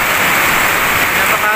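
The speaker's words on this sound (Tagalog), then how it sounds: "Napakalakas ang ulan dito sa amin ngayon." Heavy tropical rain pours down in a rural Philippine area, a loud, unbroken wash of close hissing noise across the whole moment.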